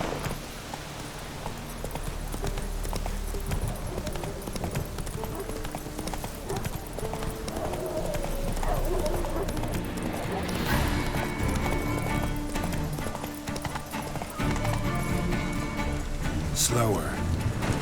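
Horse hooves clip-clop in a fast, steady gallop through The Witcher III, with game ambience and scattered voices around the rider, continuing for the whole stretch.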